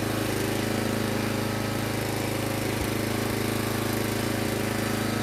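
A small engine idling steadily outdoors, heard through the muffler, a continuous low rumble with a faint knocking pulse, fairly close and alone.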